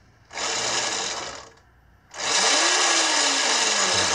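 The electric motor of a Razor E200 scooter whirs at high speed in two bursts, a steady mechanical whine that cuts out briefly, then spins up again louder with a rising tone and runs on close by.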